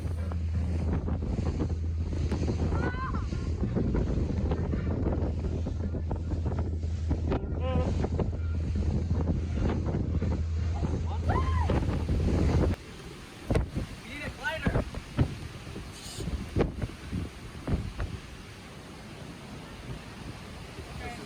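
A boat pounding through rough, windy waves on Big Stone Lake, with steady wind roar against the microphone and splashing water, then choppier bursts of spray and impacts; brief voices come through.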